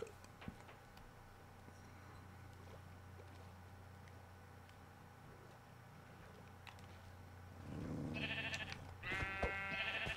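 Sheep stuck in water in Minecraft survival mode bleat near the end, two short wavering calls over a faint steady background hum.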